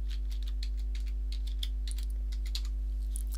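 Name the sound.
typing a password on a computer keyboard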